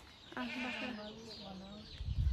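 One long, drawn-out goat bleat from a hillside goat farm beside a forest rises from a quiet background, followed by a gust of low rumbling noise.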